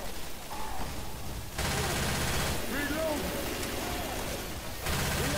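Bursts of rapid gunfire aimed at a Tank in Left 4 Dead 2's Dark Carnival fairground level, two dense volleys separated by a quieter gap, with excited voices talking over the shooting.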